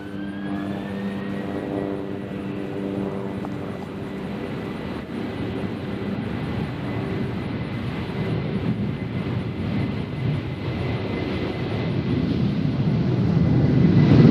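A Boeing 737-900 airliner passes over Nashville International Airport, a broad roaring jet rumble that swells steadily louder over about fourteen seconds with no talk.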